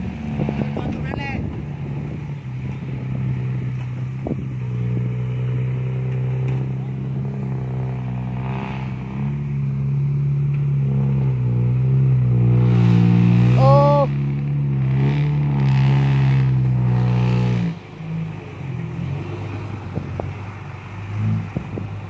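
Small motorcycle revving hard and steadily under the rider's wheelie, a sustained loud engine drone near the microphone with wind noise, rising in pitch midway, while a voice talks over it.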